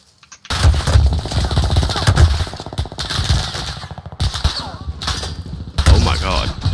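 Rapid bursts of automatic gunfire in the Call of Duty Warzone video game, loud and close, firing in several sustained volleys with brief gaps between them.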